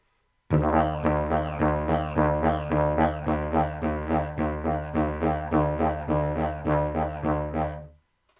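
A didgeridoo drones steadily while pulsing out a rapid, even run of two-part wah-like vowel sounds, about two or three per second, loud and close.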